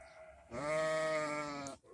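A big pregnant ewe gives one long, loud bleat close by, lasting about a second and a quarter, with quiet surroundings before and after and no talking.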